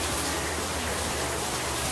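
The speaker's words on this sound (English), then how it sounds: "right now I'm going underneath a waterfall and it's pouring rain right now" Heavy rain pours down beneath a waterfall in Switzerland, making a dense, steady hiss of falling water that stays close and loud for the whole stretch with no break.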